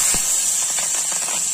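Green chillies sizzle in hot oil with cumin seeds, giving a loud, steady bright hiss with faint crackles and pops scattered through it.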